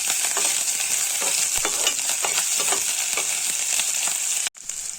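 Onion and green chili frying in oil in a wok, a loud, dense, continuous sizzle with faint scraping, cut briefly near the end.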